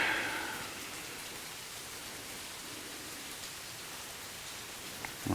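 Steady rain falls outdoors on a humid day while car paint is being polished, a constant soft hiss of drops throughout, with a brief knock near the end.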